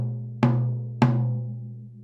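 A tom drum muted with a plastic Rootsy Q is struck twice about half a second apart, each hit short and damped with a quick decay, close and alone.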